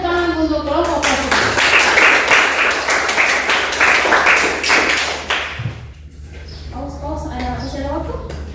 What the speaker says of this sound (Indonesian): berikan tepuk tangan untuk kelompok positif